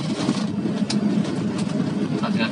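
Inside the cabin of a 1994 Toyota Starlet SE-G (EP81), a steady engine drone and underbody road rumble carry on throughout at an even level, with no talk over them.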